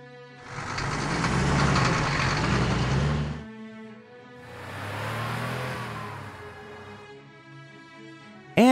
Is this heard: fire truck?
yes